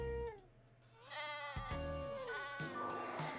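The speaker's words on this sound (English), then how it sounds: "she's counting sheep as she's sleeping" Sheep bleating in an Overwatch highlight intro for a fleece-themed sleeping skin, several wavering cartoonish bleats in succession over a soft musical backing, close and clear with no talk.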